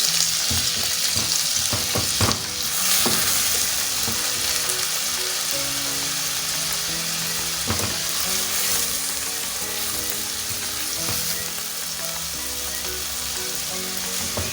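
Onion sizzling and frying in a hot pan, a steady bright crackling hiss that runs throughout, with occasional stirring scrapes and clacks, close and without any talk.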